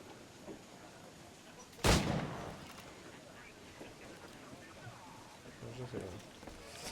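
A single loud video-game ship cannon blast booms out, followed by lingering rumble and ambient game sounds with a voice speaking.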